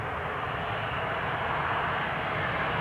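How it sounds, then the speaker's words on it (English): Boeing 737-800 jet, fifteen years old, arriving from Copenhagen at Amsterdam Schiphol, heard as a steady, loud broadband engine roar that holds evenly throughout without talk. "Coming in from Copenhagen. 737-800."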